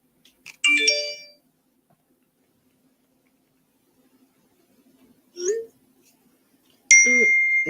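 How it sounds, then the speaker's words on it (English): Short electronic beeps and chimes from a phone sound in separate bursts against near silence, with a soft hum between them. "My phone won't quit beeping."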